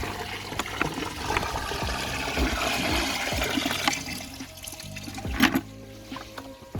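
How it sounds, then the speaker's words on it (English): Water is poured into a koi pond beside its small waterfall, a close, continuous splashing and gurgling flow with trickling and a few louder splashes near the end. "I'm just going to pour it right by the waterfall."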